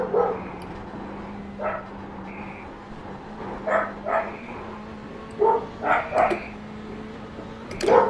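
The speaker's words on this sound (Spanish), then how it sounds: "lo que veis de fondo son los perros" Several dogs bark in the background in short intermittent bursts, some yipping, layered over a steady low engine drone from an iRacing Ferrari GTE race.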